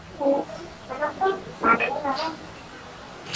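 A voice mimics a pig oinking in a string of short, grunting bursts at close range, spread across a few seconds at a home samgyupsal meal.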